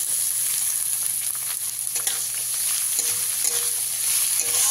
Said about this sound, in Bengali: পেঁয়াজটাকেও খুব ভালো করে ভেজে নিতে হবে